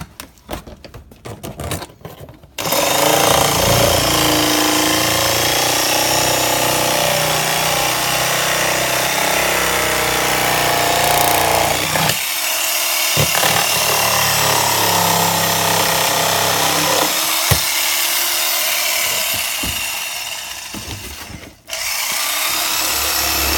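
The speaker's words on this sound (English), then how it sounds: "Cut the hole out for the speaker." A power tool cuts a speaker hole in a car panel, a loud, harsh, sustained grinding whir that starts after a few clicks, runs for about twenty seconds with brief dips, then stops.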